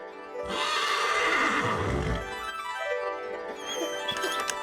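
A horse neighs loudly and long, a shrill whinny that falls away into lower snorting calls, alone without talk.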